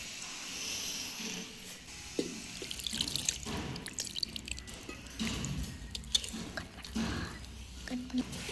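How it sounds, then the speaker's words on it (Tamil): Water trickles and splashes in small additions into rice flour dough being mixed by hand, in irregular wet bursts with soft kneading and clinking sounds. "நல்லா மாவை ஒன்று சேர கொஞ்சம் கொஞ்சமாக தண்ணி விட்டு நல்லா பிசைஞ்சுக்கோம்"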